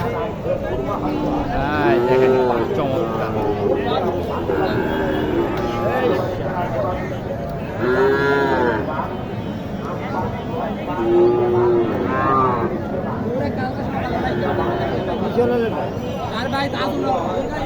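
Cattle low several times at a Bangladeshi cattle market where Sahiwal, Gir and Sindhi heifers are sold, the drawn-out moos rising over close conversation and a busy crowd hubbub.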